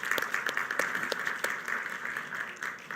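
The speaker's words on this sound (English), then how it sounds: "A round of applause for them," Applause for speakers at an enterprise digital transformation summit, a moderate crowd clapping steadily with a few close, sharp individual claps standing out over the wash.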